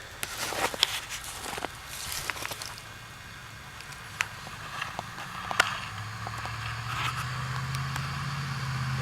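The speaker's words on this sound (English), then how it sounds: "There goes a truck up the road." A truck drives along a rural road in winter, starting faint, then its low engine drone swells and holds toward the end, over soft scattered outdoor rustling and taps nearby.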